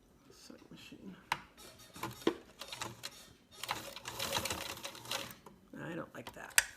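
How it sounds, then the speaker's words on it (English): A sewing machine runs in bursts as it stitches along a folded fabric edge, short rattling runs separated by pauses, with a person talking between and over the stitching. "Sewing machine."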